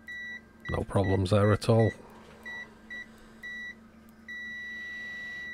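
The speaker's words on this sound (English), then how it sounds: "Nice and responsive beeper." Continuity beeper on a ZOYI ZT-5566SE bench multimeter, sounding a series of short, clear electronic beeps and then one sustained tone, with someone speaking briefly near the start.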